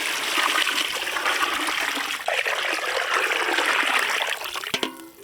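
Water is poured steadily into a village-style pot of mutton cooked with rock salt and turmeric, a loud continuous gushing that lasts several seconds, then stops with a few light clinks.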